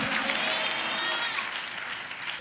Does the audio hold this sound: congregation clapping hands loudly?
yes